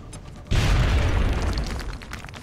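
A frag grenade goes off in the turn-based strategy game XCOM Long War: one loud, close boom with a sudden onset, then a rumbling, crackling tail that fades slowly over about two seconds.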